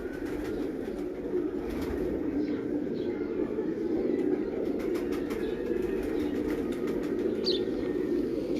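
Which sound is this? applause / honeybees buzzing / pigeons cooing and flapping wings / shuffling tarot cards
pigeons cooing and flapping wings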